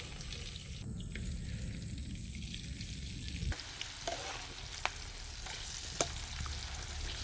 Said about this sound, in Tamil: எண்ணெய் நல்லா காஞ்சிருச்சு. இந்த பூ அப்படியே போட்டு எல்லாம் பொரிச்சு எடுத்துக்கலாம்.